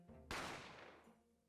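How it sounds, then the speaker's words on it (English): A single sharp gunshot in The Great Ace Attorney Chronicles bursts out after a moment of low ambience and rings off in a long, fading decay. "I didn't have time to think about where the sound of the gunshot had come from."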